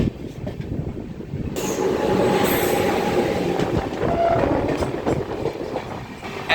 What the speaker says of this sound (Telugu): ఎస్ఎంవిటి నుండి కాకినాడ వెళ్ళే ఎక్స్ప్రెస్ ట్రైన్ ఇది, శేషాద్రి ఎక్స్ప్రెస్ ఇది